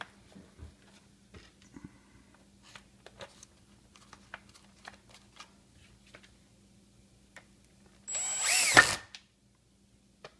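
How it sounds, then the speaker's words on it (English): A power drill driving screws on a Samsung RS265 refrigerator whirs in short bursts while its clutch clicks in rapid, light ticks, ending with one louder, longer run of the drill. "that sound you're hearing is just a clutch I've got set on my drill"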